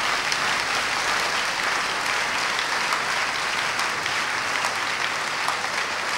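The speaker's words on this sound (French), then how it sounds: "Acclame très fort le Seigneur Jésus." A church congregation applauds loudly for the Lord Jesus, a dense, sustained clapping from many hands that stays steady and fills the room, with no individual voices standing out.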